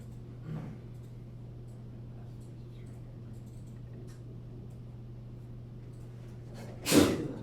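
A single sharp sneeze bursts out near the end over a steady low hum, with a faint earlier exhale and quiet background otherwise.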